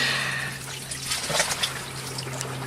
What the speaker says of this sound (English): Water dripping in my neck.